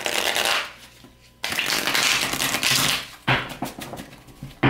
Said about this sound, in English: we'll shuffle this way for a bit